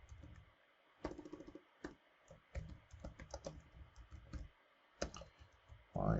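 Bursts of keystrokes tapped on a computer keyboard while entering a name and details into a web design program, quick clicky clusters separated by short pauses, close and fairly quiet.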